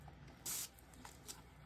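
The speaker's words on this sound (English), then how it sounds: "I'm going to spray this with alcohol because I know for sure I've introduced bubbles" Alcohol is sprayed onto resin to remove bubbles: one short, soft hiss of a spray bottle, followed by a couple of fainter spritzes in a quiet setting.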